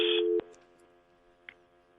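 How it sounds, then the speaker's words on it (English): Steady telephone tone with stacked harmonics, loud for the first 0.4 seconds and cut off sharply, followed by a faint lingering hum and a brief click. "I just heard a dial tone there"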